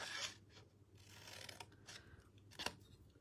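Scissors cutting craft material during a live papercraft session, with a few quiet snips and rustling handling noise close by over soft background hiss.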